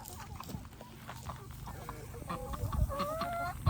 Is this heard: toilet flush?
no